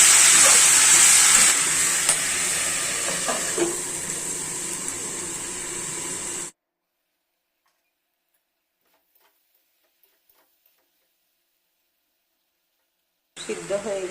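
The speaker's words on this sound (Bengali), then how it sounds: "এবার সব কিছু মিশিয়ে ঢাকা দিয়ে সিদ্ধ হতে দিয়ে দেব।" Kundri (ivy gourd) curry with onion, turmeric, cumin, chili powder and salt hisses and sizzles steadily in a covered pot, then cuts to a long silence before the cooking sound returns briefly.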